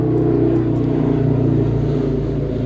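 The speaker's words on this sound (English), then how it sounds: "That is a nice motorcycle." Motorcycle engine riding past, a loud steady throaty rumble with a continuous low drone, close and alone without talk.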